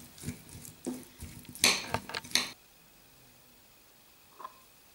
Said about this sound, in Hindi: अच्छे से इन सारी चीज़ों को हमने मिक्स कर लेना है